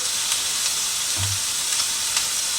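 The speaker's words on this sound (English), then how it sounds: "I'm just going to have to really stir." Vegetables for Thai-style chicken curry noodles are stirred in a hot pan, giving a steady, bright sizzle and hiss with faint scraping underneath. Close and continuous, with no voices.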